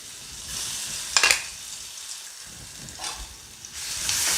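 Green chillies, garlic and ginger hit hot frying oil with ground masala, giving a steady sizzle with brief louder crackling bursts, close and moderately loud, with no voices.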